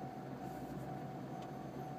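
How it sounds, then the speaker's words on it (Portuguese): A single-car train stops at a station in Kosai, Shizuoka, heard as a faint, steady low rumble and hum with a constant tonal whine and no talk. "Toda vez que eu tô indo embora pra casa, o trem para na minha frente."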